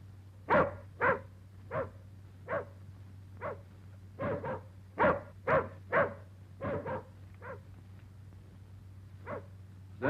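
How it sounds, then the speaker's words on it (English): Outside, a tied-up dog gives a run of separate barks, some louder and some softer, at an uneven pace over a steady low hum, with no talking. "Is that your dog outside?"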